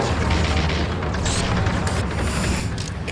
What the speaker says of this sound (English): Grenade. Grenade out. Perfect throw.